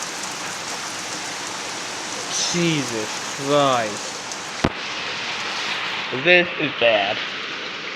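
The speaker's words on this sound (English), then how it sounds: "And hail too. Look at that. Getting hail right now." Hail and rain pouring down in a hurricane-strength storm, a steady dense roar of drops hitting surfaces throughout, with a sharp crack midway while someone speaks anxiously over it.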